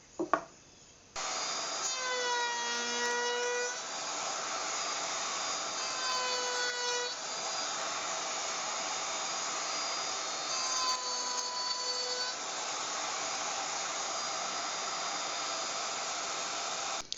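A router fitted with a roundover bit cuts the edge of a wooden cube part, a steady high machine whine with several rising and falling tonal sweeps as the bit bites in, running continuously and fairly close with no talk.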